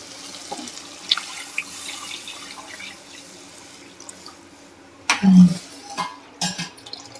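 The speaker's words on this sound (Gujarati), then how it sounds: "હવે આપણે આમાં છાશ ઉમેરી દઈશું" Buttermilk poured into a pot of simmering roti curry in a home kitchen: a quiet watery background, faint utensil clinks, then a brief louder splash and gurgle of liquid near the end, close by.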